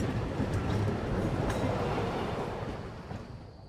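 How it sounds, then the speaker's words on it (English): A tram pulls away in the video game Syberia: The World Before, a loud, steady rumble of wheels on rail with faint clatter. The sound slowly fades over a few seconds as the tram moves off. "And away the tram goes."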